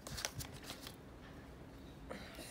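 Tarot cards are cut and riffled, giving a quiet papery flutter of quick shuffling bursts at the start, then a short pause and another brief shuffle close to the listener.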